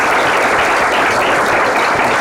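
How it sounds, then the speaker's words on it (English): An audience at a bioengineering conference session applauds a pediatric surgeon, a dense, steady wash of clapping that holds at full strength for the whole stretch with no voices over it. "A round of applause for Dr."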